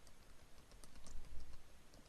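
Keys clicking on a computer keyboard while working in accounting software, a steady run of quick, light taps at close range with no voices.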